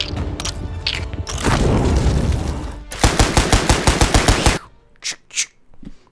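Gunfire in the VR video game Saints & Sinners: a loud, noisy blast of shots gives way to a rapid, evenly spaced burst of automatic fire lasting over a second, followed by a few isolated, fainter reports, with no voices.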